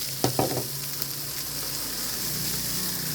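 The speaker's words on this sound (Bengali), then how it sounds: "নুডলসটা এখন এখানে দিয়ে দেব।" Boiled noodles drop into a hot pan with a few soft thumps, then a steady close sizzle and frying hiss for vegetable noodles.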